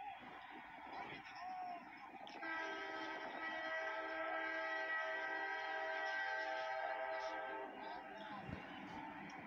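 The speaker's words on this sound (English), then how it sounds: "This is a Western New York freight train coming." A Western New York & Pennsylvania Railroad freight train's horn blares a long, steady chord while the train rumbles past leaving Meadville, Pennsylvania, with a voice speaking faintly at the start.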